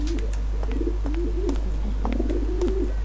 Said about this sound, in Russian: Там голуби курлыкают.